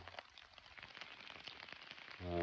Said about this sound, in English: Just laying down, waiting on the rain.